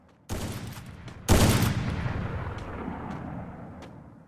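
Gunfire outdoors: a sharp boom, then a second, louder blast about a second later that rolls into a long, fading rumble, with no voices.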